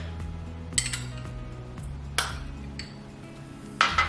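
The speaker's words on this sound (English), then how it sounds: "we're gonna put our egg yolks into this stainless steel bowl" Egg yolks and garlic going into a stainless steel bowl for Caesar dressing bring three sharp metallic clinks of a utensil against the bowl, spaced apart over a quiet background hum.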